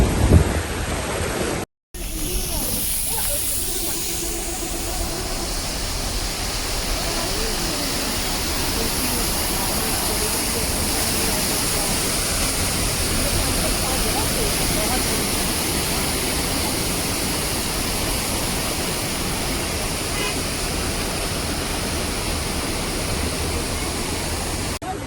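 Steady broadband rush of flowing water near Lulusar lake, a loud continuous stream or cascade sound that holds evenly for the whole stretch after a brief cut near the start, with no talk over it.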